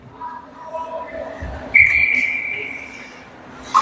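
A referee's whistle cuts through a hockey game between Rampage 15O and Team Alaska, one sharp sustained blast lasting about a second over rink crowd murmur, with a brief second chirp near the end.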